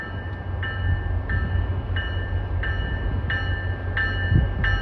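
An Amtrak or MBTA train moves through the Route 128 station with a steady, heavy rumble, while a short high warning tone repeats at a regular pace above it.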